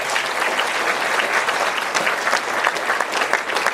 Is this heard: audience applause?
yes